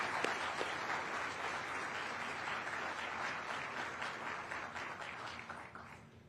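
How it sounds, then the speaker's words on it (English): Audience applause at a military drill sergeant competition ceremony, a dense, continuous roar of clapping heard from some distance that holds steady and then gently tapers toward the end. "Let's give them one more round of applause."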